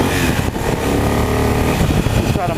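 A Triumph Thunderbird Commander cruiser motorcycle engine revs loud and close, a deep, throaty roar that holds steady with brief rises in pitch.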